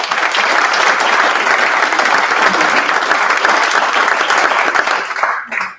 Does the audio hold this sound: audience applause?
yes